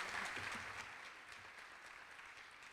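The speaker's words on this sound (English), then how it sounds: "So let's have a round of applause for June" Applause from an audience at a transit advocacy group's annual meeting, a steady wash of clapping that is faint and distant and fades slightly over a few seconds, with no talking.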